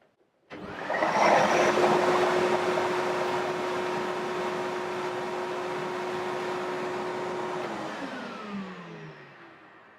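A Numatic NV750 extractor vacuum starts with a sharp surge, runs at a steady loud whine and roar for several seconds, then winds down as it is switched off, heard close with no talk.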